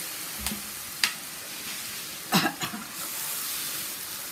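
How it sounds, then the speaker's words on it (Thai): Seasonings stir-fry in a pan for a Thai dish of crispy fried red tilapia with celery, a steady soft sizzle broken by a few sharp spatula scrapes and a louder hiss when a little water is added, with no talking. "ผัดให้เครื่องปรุงนะจ๊ะ เข้าที่ เสร็จแล้วเติมน้ำเปล่าลงไปเล็กน้อยนะคะ"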